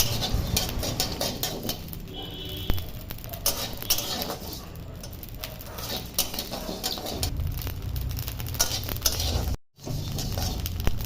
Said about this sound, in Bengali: নুন জলে মাখানো চাল কিছুটা পরিমাণ মতন দিয়ে অনবরত নাড়াচাড়া করে ভেজে নিতে হবে।